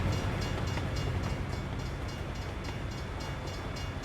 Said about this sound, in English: the train has plenty of space to go, so I'm not gonna get stuck